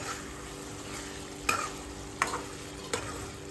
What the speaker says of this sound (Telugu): సో ఇప్పుడు దాన్ని యాడ్ చేసుకుంటూ మిక్స్ చేసుకోవాలి చింత చిగురిని.